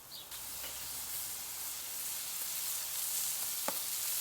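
Butter sizzles on a hot griddle plate beside Juicy Lucy burgers, a steady hiss that swells slightly, with a few faint ticks and one sharp tap near the end.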